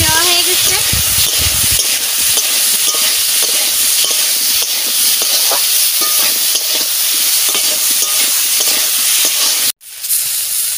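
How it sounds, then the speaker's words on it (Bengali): Potatoes dropped into hot oil left from frying tilapia fish sizzle loudly and steadily, with stirring scrapes near the start and an abrupt break close to the end. "ওই তেলে আমি আলু দিয়ে দিচ্ছি।"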